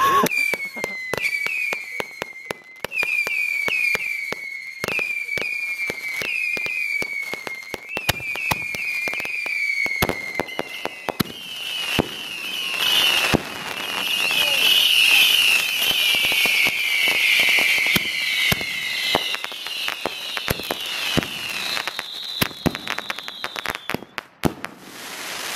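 Fireworks lit with a propane torch in a parking lot, a string of sharp crackling bursts and whistling rockets that build into a dense, loud barrage near the listener, with occasional voices nearby.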